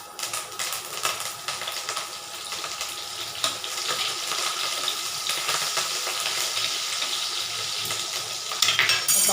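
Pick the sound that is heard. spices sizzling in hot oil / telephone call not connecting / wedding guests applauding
spices sizzling in hot oil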